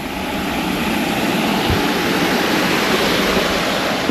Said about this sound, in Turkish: evet güzel bir şelale